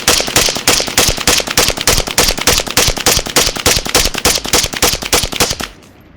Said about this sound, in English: We're just gonna do a little mag dump.